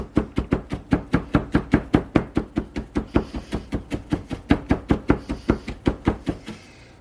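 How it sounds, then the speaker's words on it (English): A knife chops garlic finely on a cutting board, around thirty quick, evenly spaced close thuds in a steady rhythm, with no voices over it. "I'm going to chop these pretty fine"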